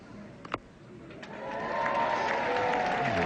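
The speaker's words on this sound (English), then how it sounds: "And that's one of the biggest rounds of applause we've had all day." Crowd at a 1978 New Zealand versus England Test cricket match breaks into applause after a wicket, a sharp clap or two giving way to steadily swelling, sustained clapping from a distant stadium audience.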